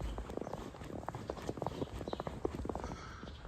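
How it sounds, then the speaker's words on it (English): Boots crunch over snow on a farm, with a brisk run of close, crisp steps that repeat irregularly against a quiet, faint background. "I hate the sound of crunching snow."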